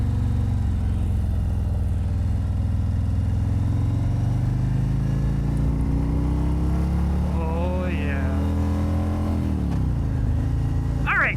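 A burly motorcycle, ridden as a test bike at a dealership, rumbles steadily and loudly throughout, with a deep engine drone that dips and rises around a slowdown near the end; no talk.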